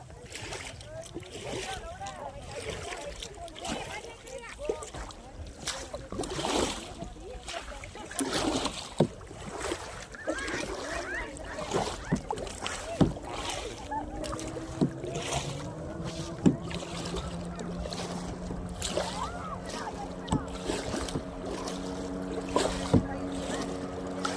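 A motor boat runs on a lake in Ramanagara, Karnataka. Water splashes and wind buffeting dominate at first, then a steady engine drone emerges in the second half, with voices mixed in.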